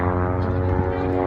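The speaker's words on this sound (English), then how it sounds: "Now roll the airplane back over to upright." Steady droning hum of a propeller airplane flying aerobatic maneuvers at the Riverside Airport airshow, loud and continuous with a constant engine tone.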